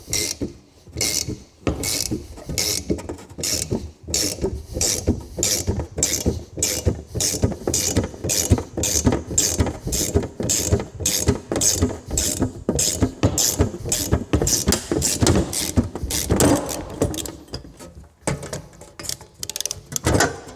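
Power tool cutting through an aluminium heat shield for a Maserati, a steady, rapid rasping chatter that runs continuously for about twenty seconds, close and loud with no talk.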